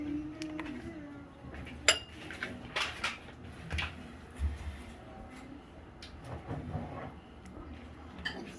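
Dishes clink and an ice cream bowl and container of homemade orange chocolate ice cream clatter in a quiet kitchen, with scattered sharp chinks and soft knocks at an irregular pace and no talking.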